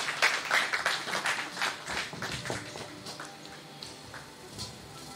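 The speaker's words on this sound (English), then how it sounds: "shall we give him another round of applause?" Audience applause at a national project management conference panel session, a burst of clapping from a crowd that swells early and then tapers off over several seconds.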